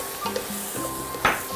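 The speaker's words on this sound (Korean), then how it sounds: "양파 넣고 볶겠습니다" Onion stir-frying in a pan for a tofu dish filling, a loud close sizzle with the scrape and clatter of a utensil stirring against the pan.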